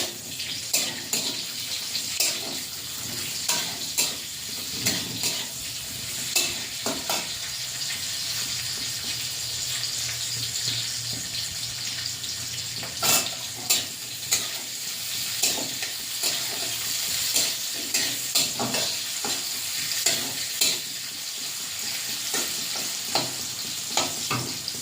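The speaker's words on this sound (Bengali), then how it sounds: "পেঁয়াজটা ভাজা ভাজা করে নেব।" Steady sizzling of chopped onions and black cumin seeds frying in a pan with repeated scraping and stirring clatter throughout, no voices.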